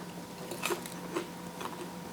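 Several crisp crunching bites of air-fried breaded tripe, close up, spaced irregularly, with no speech.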